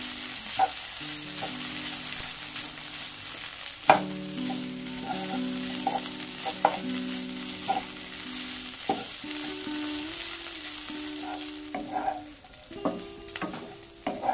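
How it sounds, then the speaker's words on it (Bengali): Snake gourd with coconut frying in a pan over a medium gas flame, a steady close sizzle with occasional stirring clinks and scrapes, accompanied by sustained tonal background sound. "চিচিঙ্গাগুলো অর্ধেক ভাজা হয়ে এসেছে।"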